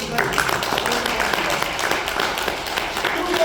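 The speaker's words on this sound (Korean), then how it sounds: "이거 잘했다고 박수 한번 쳐주세요." Audience clapping at a lecture on Korean unification, a dense, steady patter of many hands filling the room at moderate loudness for the whole stretch, with a voice faintly mixed in.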